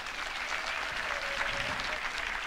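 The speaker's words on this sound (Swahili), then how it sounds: "tumpigie makofi" Congregation at a Catholic mission family event applauding in church, a continuous even clapping that fills the whole moment at moderate volume.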